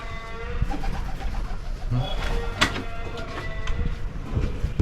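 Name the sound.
pigeons cooing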